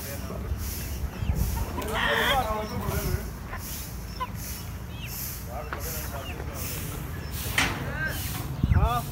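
Chickens cluck and squawk at a busy poultry market, with close, irregular calls rising over a constant crowded din and people talking nearby.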